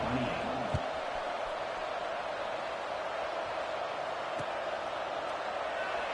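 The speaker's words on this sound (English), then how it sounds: "this crowd is buzzing after that last score" A football stadium crowd at a Miami game buzzes after a score as the extra point is kicked, a steady, distant roar of many voices filling the whole stretch, with a couple of brief thumps early and near the end.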